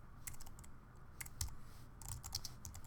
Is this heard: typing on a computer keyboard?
yes